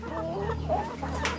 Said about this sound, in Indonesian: Ini ayam saya sengaja kandangin ya, karena biar terbiasa nanti masuk ke kandang, biar tidak terlalu liar ya.